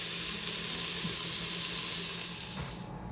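Chopped onion and garlic sizzle in hot vegetable oil inside an Instant Pot, a loud, steady, close frying hiss that keeps on without a break and eases slightly at the end.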